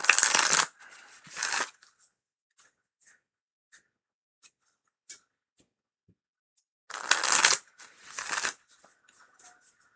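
Two quick pairs of tarot card-shuffling riffles, one at the start and one later, with near silence and a few faint taps in between.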